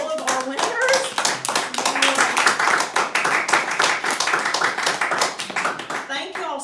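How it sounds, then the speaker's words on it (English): An award ceremony audience claps for the book award winners, a dense run of hand claps close and steady for several seconds, with a voice and some talk mixed in. "if we can maybe clap again for all of our winners"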